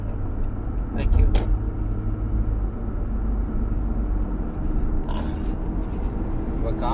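Heavy morning road traffic in Tamil Nadu, heard from inside a moving car: a constant low engine and road rumble with passing vehicles, while someone talks over it.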